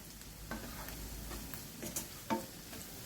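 A few brief, quiet scrapes of a spoon stirring dinuguan, a Filipino pork blood stew, in a pan, spaced irregularly over a low, soft background.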